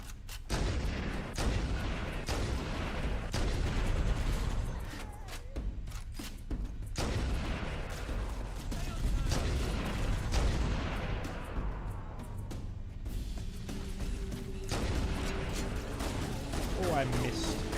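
Continuous heavy gunfire and booming explosions from the video game Halo: The Master Chief Saga, dense and loud throughout, with a player's voice talking over the battle.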